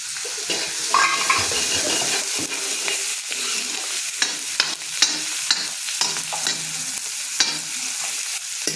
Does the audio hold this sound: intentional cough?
no